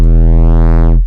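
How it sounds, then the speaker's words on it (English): A heavy, sustained synth bass note driven through Ableton's Roar diode clipper distortion sounds loud and alone, its rich harmonics sweeping brighter with a filter before it cuts off after about a second. "diode clipper"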